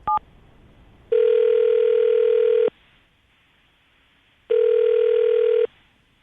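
An outgoing telephone call rings out on the line: a brief dialing blip, then two long, loud, steady ringback tones separated by a pause of near silence.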